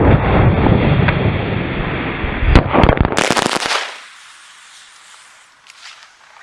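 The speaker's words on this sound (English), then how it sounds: "That is how to make a homemade, basically homemade like firework. Self-propulsion firework, I should say." A homemade self-propelled firework goes off outdoors with a loud, sustained roaring hiss, then a rapid cluster of sharp crackles before it cuts out and leaves faint wind.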